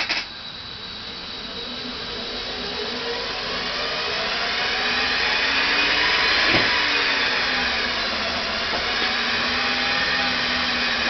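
An electric motor, fresh brushes still seating, spins back up to speed as the throttle is worked, giving a loud, steady whine that rises gently and holds near idle, with no voices.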